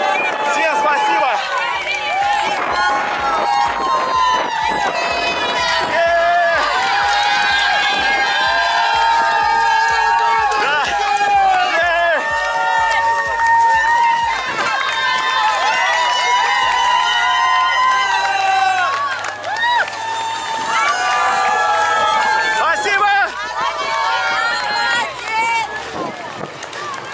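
A dense crowd of spectators cheering continuously at the finish of the White Nights marathon, loud and sustained, with shouts and whoops over a steady roar and voices talking throughout.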